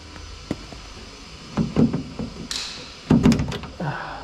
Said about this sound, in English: just want to get hold of the door handle, give it a little gentle tap towards you.